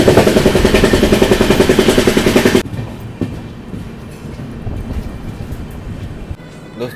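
A Rajdhani Express train runs loud and close, its rapid rhythmic clatter of wheels and rushing noise filling the first few seconds before dropping abruptly to a quieter rolling hum with faint knocks.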